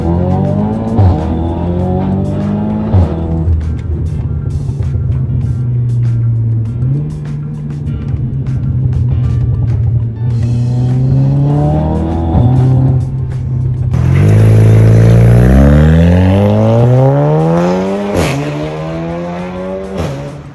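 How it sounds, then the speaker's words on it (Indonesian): A Stage 4 tuned Audi S3 Quattro accelerates hard, its engine climbing through several gears with sharp shifts and a loud, rising exhaust note heard from inside the car. "barusan kita udah nyobain Audi S3 ini, gila banget, dia 0 sampai 100 tuh bahkan nggak sampai 4 detik"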